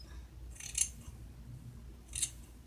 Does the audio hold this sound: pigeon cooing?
no